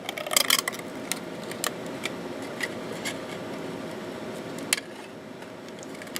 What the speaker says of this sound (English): we're just going to continue on to cut this bunny out